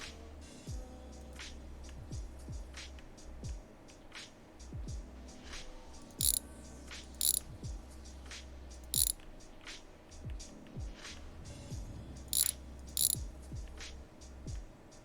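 Ratcheting wrench clicks on car transmission bolts in a home garage, a steady run of quick metallic pawl ticks close by with a few sharper clanks of tool against metal, no talking.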